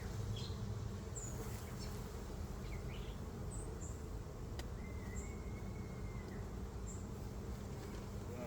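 Honey bees at an open hive full of brood in an apiary during hot, humid weather, a dense, steady buzzing drone that fills the whole stretch, with a few faint bird chirps and clicks over it.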